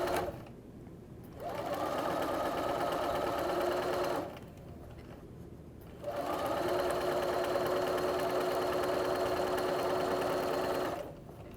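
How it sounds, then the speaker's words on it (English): A sewing machine stitches a strip for a quilt block in two long, steady runs of fast mechanical whirring and needle chatter, with a brief quiet pause between them and at the start and end. "you don't have to sew all the way from one end to the other end of the strip"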